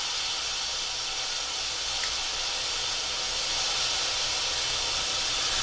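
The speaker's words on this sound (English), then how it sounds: "You have to wait until the steam pressure is completely gone, until it stops doing this." Steady hissing steam escaping from the valve of a WMF pressure cooker as pressure is released, a loud continuous broadband rush that holds unchanged throughout with no talk over it.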